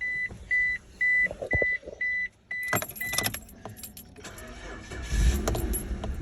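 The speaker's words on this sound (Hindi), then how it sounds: "गाड़ी को अब स्टार्ट करते हैं।" A Suzuki car with a replaced camshaft position sensor, a run of regular electronic beeps, then a jangle of keys and the engine cranking and catching, settling into a low idle, close by with no talk.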